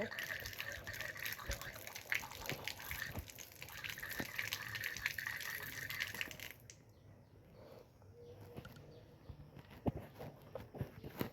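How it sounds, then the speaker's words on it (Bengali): Tap water runs steadily while a toothbrush is rinsed in a home bathroom, a close continuous gush that cuts off partway through, leaving quieter drips and faint handling sounds. "এখন আমি ব্রাশটা ধুয়ে নেব"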